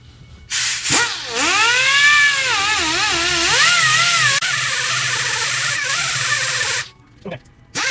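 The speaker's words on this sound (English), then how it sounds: "Try a Routakit disc, just a sanding disc." A power tool spins a sanding disc against a metal end plate on a CNC router build, giving a loud whining grind whose pitch wavers as pressure changes, running about six seconds before spinning down.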